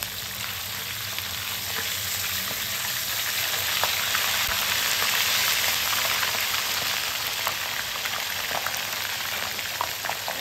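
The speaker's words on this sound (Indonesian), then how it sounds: "Jadi kita goreng bekasam ikan jelawat" Fermented bekasam fish, jelawat and lampam Jawa, frying in hot oil, a dense steady crackling sizzle with fine spattering pops throughout, close and loud with no talking.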